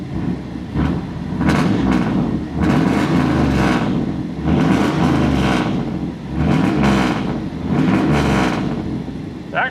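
An old OBS Ford truck engine, likely fitted with a cam and not properly tuned, runs steadily after starting, with a loping idle that rises and falls in regular pulses, close and fairly loud.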